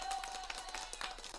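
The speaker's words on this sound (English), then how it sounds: "you give yourself the applause" Quick round of self-applause on a real estate podcast, one person clapping rapidly and softly for about a second and a half, close and quiet.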